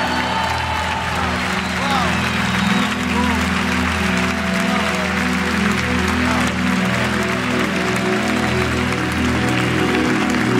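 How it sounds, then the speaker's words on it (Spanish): Sustained applause from a large crowd at a church worship event fills the whole stretch, dense and steady, with a voice and music-like tones blended underneath. "Vamos a dar un aplauso a aquellos que se han entregado a Jesucristo"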